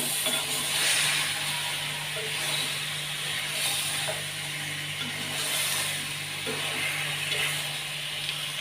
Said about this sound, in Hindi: मटन को पहले हमने भूना नहीं है, तो यहाँ पर मसाले के साथ इसकी अच्छे तरीके से हम भुनाई करेंगे।